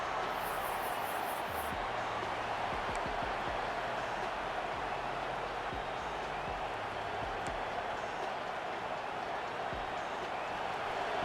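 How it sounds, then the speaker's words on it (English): Stadium crowd roar from the College Football 26 video game during a USC vs Nebraska matchup, a dense continuous wash of noise with faint low rumbles and thumps beneath it. "The roar of the crowd trying to fuel this defense to keep them pinned in their own end"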